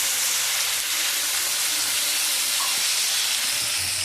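Strong, steady sizzle and steaming hiss as a little water hits ginger, garlic and onion paste frying in a hot pan, loud and continuous with no talk.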